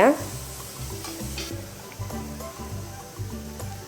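Bottle gourd seed chutney ingredients being sautéed with coconut in a pan, giving a steady, near sizzle with repeated stirring scrapes in an uneven rhythm.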